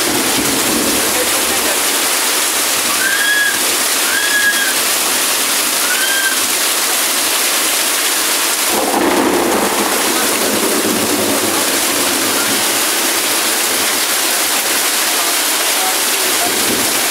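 Floodwater rushes during a storm in a residential street, a steady loud roar of flowing water throughout, with a few faint voices calling in the background.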